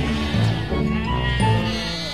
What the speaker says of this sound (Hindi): तुम्हारी बकरी कैसी है?